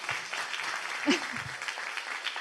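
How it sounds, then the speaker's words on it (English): Audience applause at the closing plenary of an internet governance forum in Singapore, a steady wash of clapping for a panel that holds for the whole stretch with a brief louder swell midway and some faint voices mixed in. "Another round of applause."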